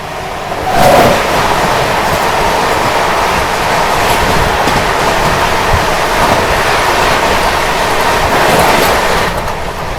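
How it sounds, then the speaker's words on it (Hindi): Bangalore Rajdhani Express thundering past from the opposite direction, a loud continuous rush of rail noise and wheel rumble lasting the whole stretch, swelling at the start and end. "बेंगलोर निजामुद्दीन बेंगलोर राजधानी एक्सप्रेस सामने से आ रही है"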